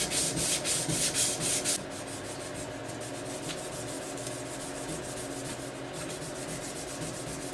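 Stanley 750 chisel back flattened on sandpaper, with a burst of quick rhythmic scrubbing strokes up front, then steadier, softer abrasive rubbing close by.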